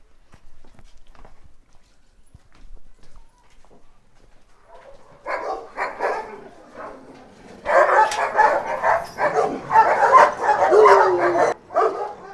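Dogs at a breeder's kennel, quiet footsteps at first, then several dogs close by break into loud, overlapping barks, yips and whimpers that grow denser and keep going without a break.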